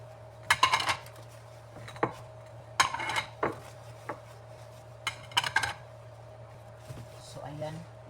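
Small new plates are handled during an unboxing, giving intermittent clinks and knocks of ceramic against ceramic in short bursts, close by, as a person talks between them over a steady low hum.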